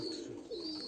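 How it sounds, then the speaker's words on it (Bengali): Pigeons on a pigeon farm give a soft, low coo, faint and brief, with no voices. "কবুতরের সব বাচ্চা গিয়া দল হয়েছে।"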